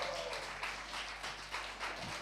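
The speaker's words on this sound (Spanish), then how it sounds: "Un aplauso a las mujeres." A church congregation at an evening Spanish-language service claps for the women present, a faint, distant patter of many hands over a constant low hum.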